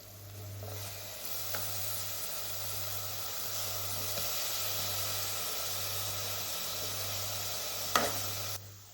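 A steady, close sizzle of masala frying in a pan for Kerala-style squid roast, cooking toward brown, with a continuous hiss, a low hum and occasional faint stirring clicks.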